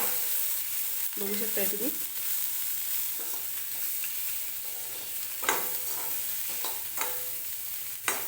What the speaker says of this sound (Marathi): आणि परत एकदा सगळं व्यवस्थित मिक्स करून घ्यायचं आहे.